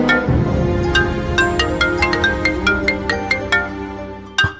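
A mobile phone rings with a melodic electronic ringtone in a TV serial scene. Repeated bright chiming notes sound at a steady, fairly loud level for several seconds with no talking over them, and a sharp knock comes near the end.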